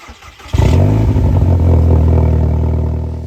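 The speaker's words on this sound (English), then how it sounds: "It's had a resonator delete, so the exhaust sounds lovely." A Mk5 Golf GTI with a resonator-delete exhaust roars into a loud, close rev after a quiet start, then holds a rich, throaty drone that slowly eases off.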